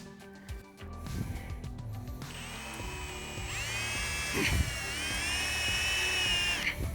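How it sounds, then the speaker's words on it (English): A power drill whines steadily, its pitch shifting as the bit bites into steel while drilling a pilot hole in a Jeep JL Wrangler for fender flares, with shop noise underneath. "We're gonna drill it out with a pilot hole just like we did behind."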